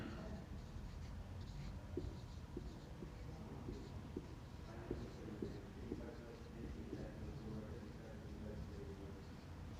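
Chalk or marker scratching on a classroom board during a lesson on decimal expansion of rational numbers, faint short strokes over steady room noise and a teacher's voice.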